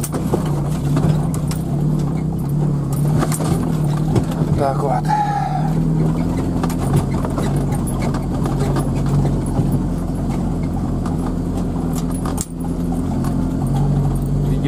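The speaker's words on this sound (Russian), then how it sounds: "Приходится на первой скорости ехать." A car crawls in first gear along a badly broken road toward Syktyvkar, a steady low engine drone from inside the cabin with knocks and rattles from the rough surface while someone speaks briefly.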